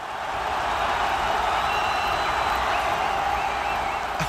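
A steady, broad roar comes from about 40,000 rugby league fans cheering and screaming in a stadium during NRL finals week. It sounds distant and continuous, like a dense crowd wash with no single voices standing out.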